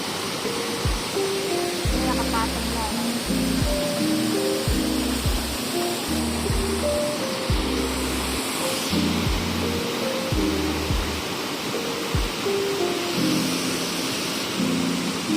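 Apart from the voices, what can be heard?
rushing river after typhoon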